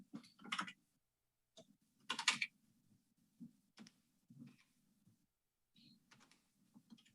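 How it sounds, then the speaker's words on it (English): Bursts of typing on a computer keyboard, quick clusters of clicks separated by pauses, fairly faint over a low steady hum. "I know my typing is absolutely abysmal"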